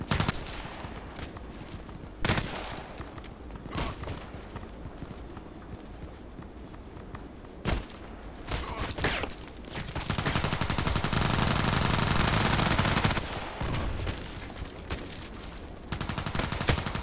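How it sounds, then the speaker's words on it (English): Gunfire in a first-person shooter game on the Site Map, bursts of rapid automatic fire and sharp single shots scattered across the stretch, with a sustained loud barrage near the end, heard alone without talk. "Why are you shooting at me?"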